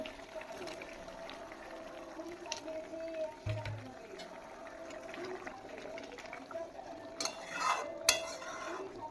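Paneer added to boiling spinach gravy in a pan, with soft bubbling, light clinks of a utensil against the pan and a brief knock, quiet and close, under faint room noise.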